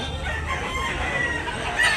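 Rooster crowing amid clucking chickens at a busy Cebu poultry market in Tabunok, Talisay, the calls rising over a dense, noisy crowd murmur and bustle that fills the whole moment.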